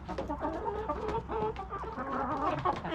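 Several chickens cluck and chatter continuously at close range, busy overlapping calls from a flock with no talking.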